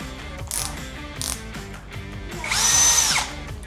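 An OSUKA 5-in-1 cordless drill, model OCD701D1, with a 20 V battery and metal chuck, giving short whirring bursts and then a longer high-pitched spin-up and wind-down, close and clear over a ticking mechanical background.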